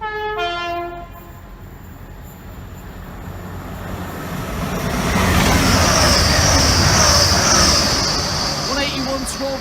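A train passes through Grantham station, a long horn blast opening before the rolling rumble of the train builds and holds loud and close.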